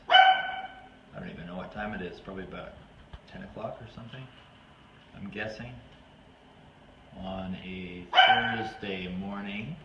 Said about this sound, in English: And you may hear our dogs making noise in the background.